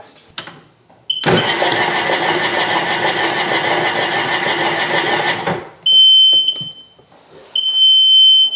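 A Sea-Doo jet ski engine, recovered after sinking, cranks over steadily for several seconds with a dense whirring buzz, then stops; a high electronic beep tone sounds alone afterward.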